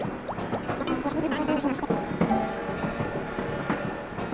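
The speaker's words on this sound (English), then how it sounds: "And there's the famous end sequence in the train." Train ride in the end sequence of the Nintendo GameCube game Animal Crossing, run on PC: rolling rail clatter and carriage rumble carry steadily under a busy game soundtrack, with someone talking over it.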